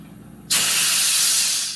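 After a brief quiet moment, a loud, forceful CO2 hiss bursts on and holds steady, gas at 30 pounds pressure rushing continuously into a beer keg.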